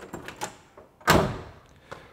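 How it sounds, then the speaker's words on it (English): A 1972 Pontiac LeMans car door swings shut with one solid, close thunk midway, following a few lighter clicks and rattles, with no one talking. "Closing the door here."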